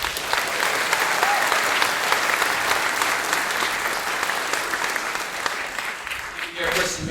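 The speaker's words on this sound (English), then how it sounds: "Give them a round of applause." Steady audience applause fills a hall after a mariachi-style trumpet trio at a symphonic and jazz band concert, many hands clapping densely and evenly, tapering slightly near the end.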